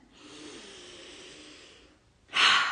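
A slow, deep breath drawn in through the nose during a guided forgiveness meditation, a long soft airy hiss lasting nearly two seconds, followed by a brief pause and a louder, sharper rush of air close to the mic.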